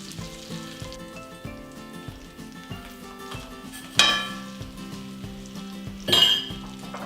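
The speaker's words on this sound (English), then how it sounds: "Now we're going to stir in our brown sugar" Half a cup of butter melting in a medium saucepan over medium heat while brown sugar is stirred in, a steady low sizzle under repeated spoon clinks and scrapes against the pan, with two sharper metallic knocks.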